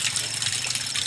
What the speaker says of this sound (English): No, like this water is just flowing.